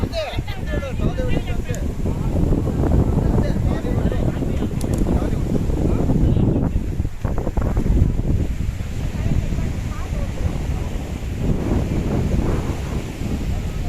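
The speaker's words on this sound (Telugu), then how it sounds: "గాలి కూడా చాలా ఎక్కువగా వస్తుందండి" Strong evening wind buffets the microphone outdoors at a picnic in Tanzania, a steady low roar with gusts throughout, with voices faintly audible early on.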